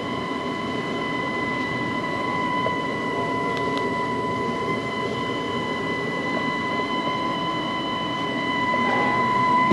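A downstairs Carrier furnace heater running loudly, a steady broadband whooshing roar with a persistent tonal hum, close and continuous without talk.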